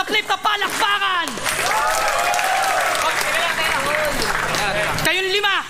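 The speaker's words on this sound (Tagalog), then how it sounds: "Lahat ng nagmamahal sa flip na palakpakan." An audience claps and cheers for a sustained stretch at a Fliptop rap battle, loud and close, with a rapper's voice before and after the burst.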